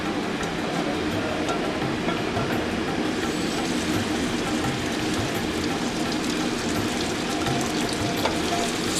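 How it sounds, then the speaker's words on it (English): Lamb seared in olive oil in a hot pan gives a steady, dense sizzle that holds loud and even throughout, with no talking over it. "So essentially, we're going to sear this before we put it in the oven."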